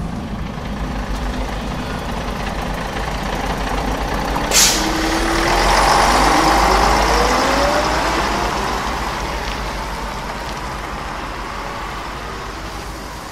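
Bus engine and air brakes as a radio drama sound effect for a bus carrying passengers to Subang: a loud diesel drone, a sharp air-brake hiss burst, then a rising engine surge as it pulls away.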